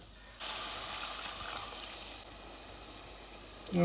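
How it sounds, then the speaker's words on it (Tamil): Water poured into a hot pan of prawn curry sets off a sudden steady hiss and sizzle that starts abruptly, holds and slowly fades, ending with a brief clatter. "இப்போ நாங்கள் தண்ணி சேர்ப்போம்"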